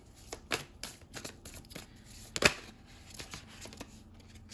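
Tarot cards being shuffled by hand during a reading, a run of soft irregular riffling and slapping bursts with one sharper snap partway through, close and fairly quiet, no talk.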